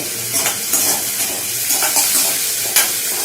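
Tomato pieces sautéing in a hot pan, a busy sizzle with repeated scrapes and clinks of a spoon stirring against the pan, close and loud.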